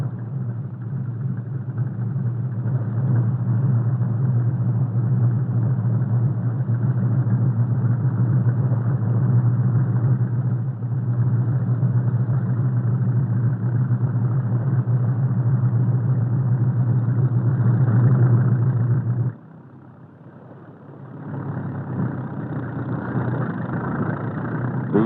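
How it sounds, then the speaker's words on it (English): Heavy trucks loaded with sand asphalt mixture from a floating asphalt plant pull away along a Mississippi River bank, their engines a steady, loud, low rumble that drops off briefly near the end before returning. "Then the trucks move away to dump their loads into steel sleds."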